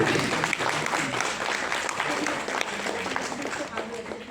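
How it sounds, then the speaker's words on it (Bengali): Audience applause fills a stage event as the actress Sohag Sen is invited up: dense, steady clapping from a crowd, sustained and fairly loud throughout, with some talk mixed in. "একটু জোরে হাততালি যদি দেন আপনার"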